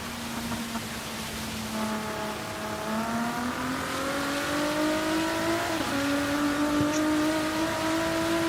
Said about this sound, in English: I have to like blip the throttle to get it to downshift to the right gear before I exit the turn